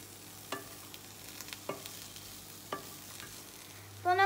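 Leek cooks in a pan during a children's cooking lesson, with a few soft, scattered stirring scrapes over a faint, low sizzle in an otherwise quiet room.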